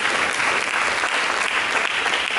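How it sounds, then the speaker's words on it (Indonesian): A church congregation claps loudly and steadily in a dense, sustained round of applause filling the room. "Berikan tepuk tangan."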